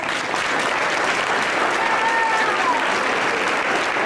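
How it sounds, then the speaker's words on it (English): A loud, sustained round of applause fills the hall at a junior high school awards night and 8th grade commencement, even and continuous from start to finish, with faint crowd murmur mixed in. "give them a round of applause as well"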